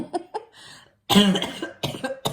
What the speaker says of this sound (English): See, I'm clearing it out now by coughing.